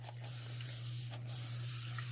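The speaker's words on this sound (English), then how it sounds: "I am going to spray this down with alcohol real good, though, because it will pop any bubbles." Alcohol sprayed over a large poured resin tray mold: two short, close hissing bursts about a second apart over a steady low hum, with no voices.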